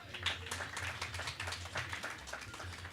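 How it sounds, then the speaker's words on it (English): Audience applause for a panel at a sustainable development forum, a steady wash of clapping across the whole stretch at moderate level, with a low rumble underneath. "A round of applause for my panelists."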